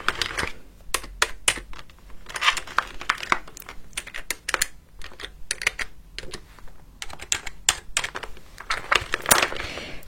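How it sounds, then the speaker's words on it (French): Rapid, uneven keystrokes clatter on a computer keyboard, with short pauses between bursts of typing, close and fairly clear. "Donc tu m'as dit d'utiliser le clavier."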